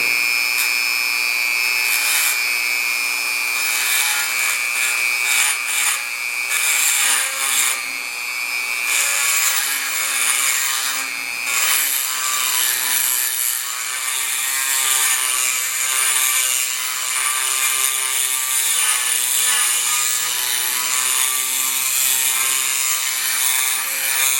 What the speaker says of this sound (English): let's do a little grinding on that edge